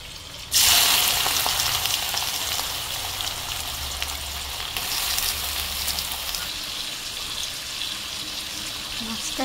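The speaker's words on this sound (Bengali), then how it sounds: "এখন মাছটাকে ভেজে নিচ্ছি" Fish fries in hot oil, giving a loud, steady sizzle that bursts in abruptly and crackles continuously, with faint intermittent spatters over the constant hiss.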